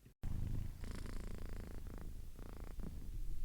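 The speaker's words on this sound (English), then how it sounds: "And Kachu, my fluffy Persian cat, is gracing us with his presence while I do so." A fluffy Persian cat purrs up close, soft and steady, with a rhythmic rumble that pulses through a few seconds and no voices over it.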